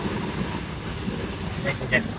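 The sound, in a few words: freight train passing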